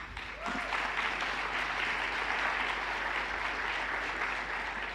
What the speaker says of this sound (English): Can we give them a final round of applause?